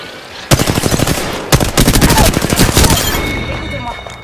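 Apex Legends firefight with two loud bursts of rapid automatic gunfire close by, the first brief and the second longer and stuttering before fading into a low hum.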